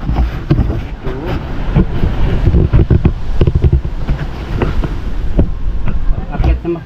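Boat engine running close by with a low, rumbling throb and irregular knocking pulses, with people talking over it.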